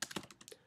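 Several quick keystrokes on a computer keyboard while typing Java code, a light, irregular run of close clicks with no talking.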